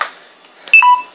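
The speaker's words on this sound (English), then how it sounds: "Stop beeping" A short electronic beep pattern of two quick descending tones, clear and close, after a faint brief noise.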